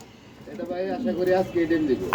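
Giant homer pigeons coo in a loft, soft low warbling calls repeating under a man's nearby speech.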